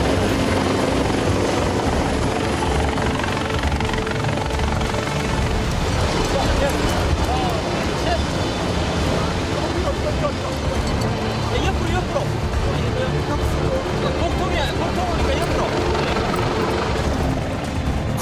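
A rescue helicopter hovers during a mountain evacuation of patients on Bukhansan, its rotor wash producing a loud, continuous, close thudding roar throughout, with faint voices beneath.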